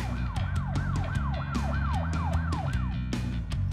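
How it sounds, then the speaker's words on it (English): A fire truck siren wails in a steady repeating up-and-down sweep, loud and close, with a low engine rumble beneath and no voices. "It's a fire truck!"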